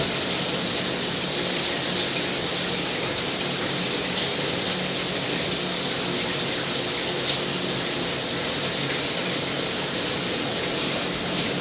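A home shower runs steadily and fairly loudly, a dense, even hiss of falling water that fills the whole stretch without pause. Voices are barely noticeable under it.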